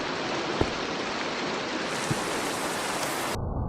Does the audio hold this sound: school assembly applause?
no